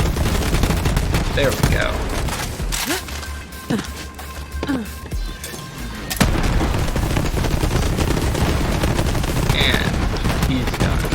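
Borderlands 3 combat, Moze's build in the Proving Grounds: dense rapid gunfire and repeated booming explosions, loud and close, with a brief lull in the middle before the barrage resumes, and a voice speaking briefly.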